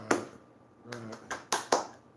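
Cupped-hand clapping that imitates claves, the wooden sticks used to accompany flamenco guitar: about six sharp, hollow claps at an uneven pace, with brief speech between some of them.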